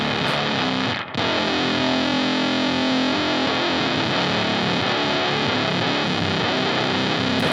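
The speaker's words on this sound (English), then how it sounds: "Let's hear that octave up on the square wave fuzz." Octave-up square wave fuzz effect, probably from a pedal, gives a dense, saturated, buzzing tone that holds steadily for several seconds after one brief dropout near the start. No voices.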